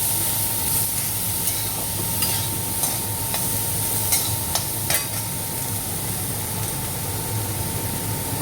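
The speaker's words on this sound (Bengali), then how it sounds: "আর একটু ভাজা মতো হোক।" Tomato, cumin, ginger and coriander paste fries in a pan, giving a dense, constant sizzle with occasional sharp stirring scrapes, close and fairly loud.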